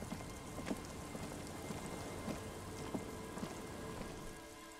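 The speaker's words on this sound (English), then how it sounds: "You just chill outside in the rain, Kim." Steady rain falls in Disco Elysium, a soft continuous patter with scattered sharper drops landing on a surface, fairly faint and without any voices.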